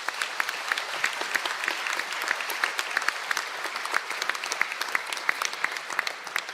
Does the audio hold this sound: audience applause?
yes